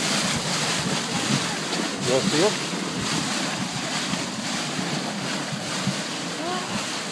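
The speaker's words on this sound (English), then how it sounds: "minute of water flowing through like this" Thawed storm water rushes through a drain in a large, steady flow, a loud continuous roar of water and wind noise with a voice briefly speaking over it.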